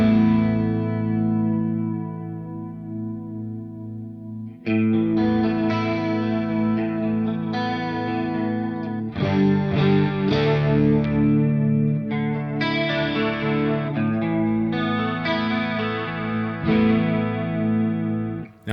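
Sustained electric guitar chords shimmer and warble through a Walrus Julianna stereo chorus/vibrato pedal with its lag control engaged, ringing out one after another with no voices.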